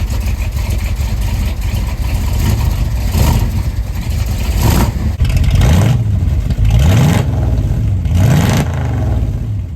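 A car engine revs hard while driving up through the gears, loud and close. The pitch climbs and drops repeatedly as each gear is taken, with no talk over it.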